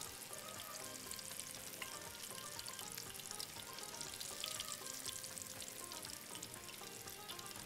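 Garlic and onion fry in a pan on a stovetop burner, a dense, steady sizzle that runs unbroken throughout, close and fairly loud, with no voices.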